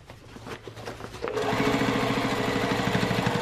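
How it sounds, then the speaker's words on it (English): A sewing machine backstitches over a seam on a fabric bag, starting with a few slow stitches before running up to a fast, steady rattling chatter close to the microphone. "I backstitch over my seam."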